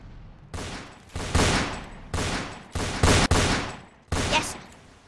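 Roblox shooter game gunfire: several loud bursts of rapid shots in separate volleys, each cutting off sharply, with short gaps between them and no talk.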